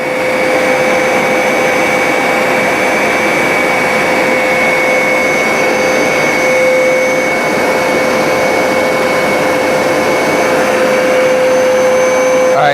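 A Hoover SmartWash carpet washer runs in its washing mode, a loud constant motor whine with a sharp steady tone over a broad suction roar, unbroken from start to finish.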